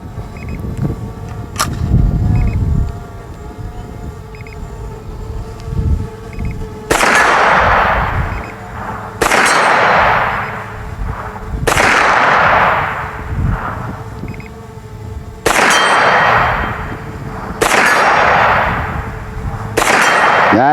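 Henry Homesteader rifle shots at an outdoor range, five or six loud sharp reports spaced a few seconds apart, each ringing with a metallic clang of steel targets and a decaying echo.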